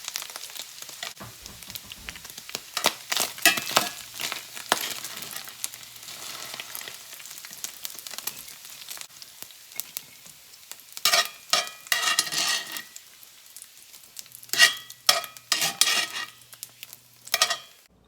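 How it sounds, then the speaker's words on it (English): Pork carnitas fry and brown in a pan, crackling and sizzling steadily with bursts of louder spitting and occasional utensil scrapes and stirring clatter, close and alone without talk. "So I like to get them good and browned on one side and then just a little bit on the other side"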